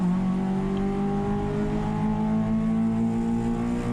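A race car at the Pacific Grand Prix accelerates out of a turn, with a loud, close engine note climbing steadily in pitch through the gears and no pause.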